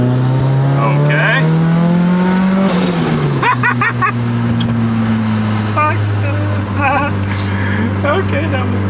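Turbocharged Toyota MR2 AW11 (mk1) with a 4A-FE engine pulls hard from inside the cabin, its engine drone rising and then dropping, with chattering turbo flutter bursts repeating over the steady hum while someone talks.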